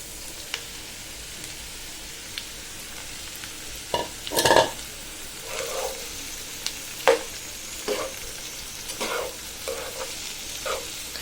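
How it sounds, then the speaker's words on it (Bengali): Okra coated in turmeric, coriander powder and salt sizzles in a pan over fried onion, garlic and green chilli, with a steady frying hiss and scattered sharp stirring clatters, loudest midway. "এবার এই যে আমার হলুদ, ধনিয়ার গুঁড়া আর লবণ মেখে রাখা ঢেঁড়সগুলো দিয়ে দিচ্ছি।"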